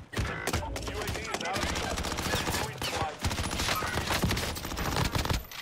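Rapid automatic gunfire crackles in Warzone, dense bursts of shots with brief gaps between them, loud and close, while a player talks over the action.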